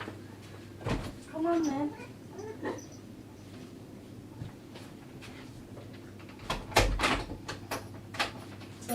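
A house cat meows near a door, then the door clatters as it is opened to let him in. Someone speaks briefly and quietly between the sounds.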